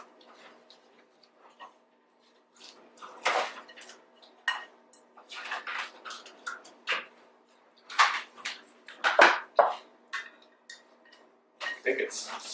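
Granola bar mixture is stirred in a bowl, giving irregular close clinks, taps and scrapes of a spoon against the dish, mixed with people talking.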